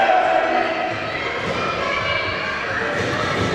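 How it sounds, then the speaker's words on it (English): Fans at a WidowFest 2023 wrestling match chant together, a loud, sustained crowd roar with scattered thuds, steady throughout and slightly stronger at the start. "The crowd calling for some more destruction."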